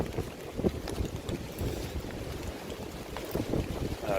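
Gusty wind buffets the microphone outdoors on a blustery day, a continuous rough low rumble with uneven surges and no talking.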